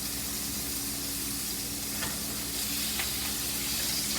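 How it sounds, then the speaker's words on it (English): Food fries in hot oil in a pan, giving a steady, loud sizzle and hiss with a few faint clicks of stirring. "You want to hear that sizzle throughout the cooking process."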